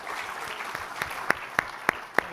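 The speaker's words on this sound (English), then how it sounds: "big round of applause to yourself for filling that in" A conference audience applauds after a talk, heard as light, scattered clapping with a few sharper individual claps standing out in an uneven rhythm. The clapping is fairly faint, as if heard from a distance across the room.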